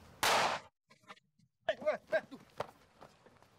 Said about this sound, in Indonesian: Siang-siang main mercon lu.